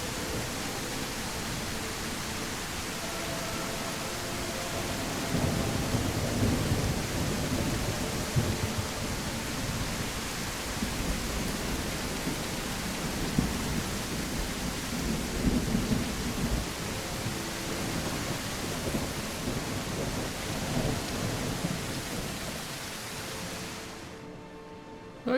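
Steady rain hiss in a video game, falling on wet ground, heavy and continuous with low rumbling underneath, fading out near the end.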